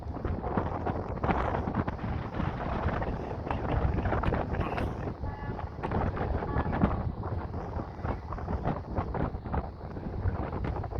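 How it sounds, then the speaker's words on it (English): Strong wind buffets a microphone on a beach at Corralejo, Fuerteventura, a dense continuous roar with gusty surges throughout and no clear voices. "There's a lot of wind then."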